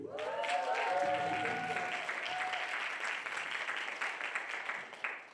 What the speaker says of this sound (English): Thank you for the applause.